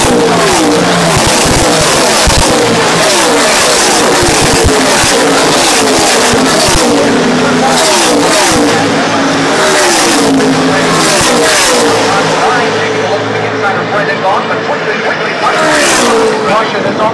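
NASCAR race trucks roar around Texas Motor Speedway, a dense, continuous wash of engine noise with passing surges and revving, loud throughout under steady race commentary.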